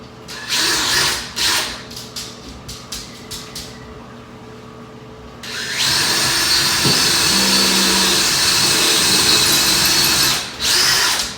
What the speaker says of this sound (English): just going to drill my pilot hole here